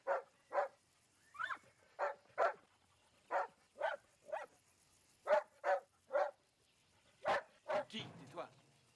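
A dog barks repeatedly in short, evenly spaced bursts, loud and close, with a couple of yelps near the end.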